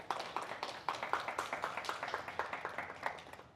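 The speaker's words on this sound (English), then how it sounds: "And so we clap" A live audience clapping at a women's empowerment and leadership talk, a steady patter of many hands at moderate distance, fairly quiet, with no voices over it.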